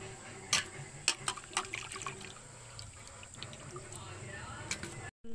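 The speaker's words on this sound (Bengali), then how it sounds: "মাছগুলোকে ভালোভাবে ধুয়ে নেব।" Fish are rinsed in warm water by hand: water trickles and splashes steadily, and sharp clatters and knocks come now and then, close by.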